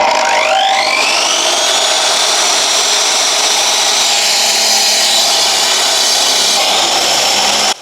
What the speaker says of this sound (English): we're going to cut the clay pipe